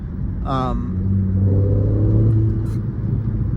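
A 2014 Porsche 911 S engine rumbles steadily with a brief rising rev, continuous and fairly close, with a voice speaking over it.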